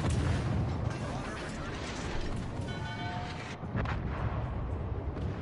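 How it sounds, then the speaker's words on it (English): Naval gunfire and mechanical turret clatter fill a World of Warships Legends battle, with dense, loud booming and rumbling blasts layered over a busy game soundscape. "Concentrate fire on the enemy warship."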